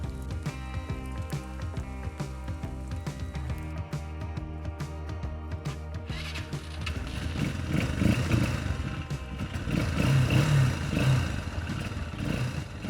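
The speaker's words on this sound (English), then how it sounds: "Let's start the engine." A compact Loncin ATV engine cranks and fires, then runs with a steady, buzzing small-quad idle that swells slightly louder toward the end.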